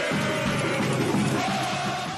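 Football fans at Ressacada stadium giving the Avaí squad a festive welcome, a dense, loud, continuous crowd roar with shouting and no break.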